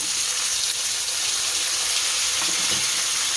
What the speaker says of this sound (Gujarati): હવે આપણે કાંદા નાખશું